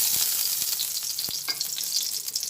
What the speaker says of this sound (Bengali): তেল দেওয়ার পরে গোটা গরম মশলা দিলাম এছাড়া তেজপাতা দিলাম একসঙ্গে এগুলো একটু ভেজে নিই